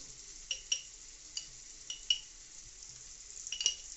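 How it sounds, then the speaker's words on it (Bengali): Coriander powder being stirred in a frying pan during preparation of prawn malai curry, with a handful of light spoon scrapes and clinks against the pan over a quiet, faint sizzle. "ধনের গুঁড়ো পরিমাণ মতন দিয়ে একটু নাড়াচাড়া করে নেওয়া হচ্ছে"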